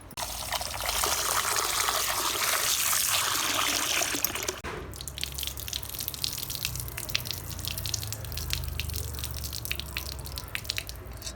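Rice for Katte Pongali is swished and rinsed in water, first a loud continuous rush of pouring and sloshing, then after a pause a quieter run of trickles, drips and small splashes up close.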